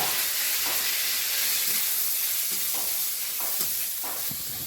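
Panch phoron, chopped onion and garlic frying in hot oil make a steady, close sizzle and hiss with faint stirring taps throughout.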